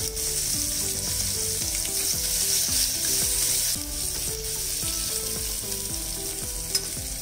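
Curry leaves and sliced onion frying in hot oil for sambar, a constant close sizzle with bright crackling and faint clinks of stirring, with no talk.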